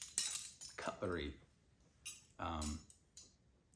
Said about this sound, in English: couple spoons, some old flatware.